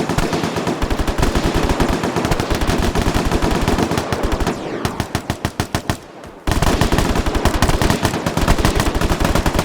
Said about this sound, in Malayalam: എന്നെയാണ് വെടിയിക്കുന്നത്